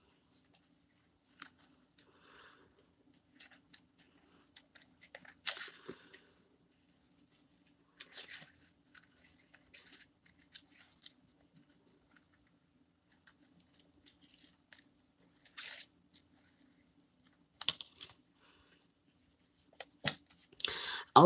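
Scissors cut out a paper gray squirrel shape, giving soft, close, intermittent snips and crisp paper rustles in scattered bursts, with quiet pauses between them.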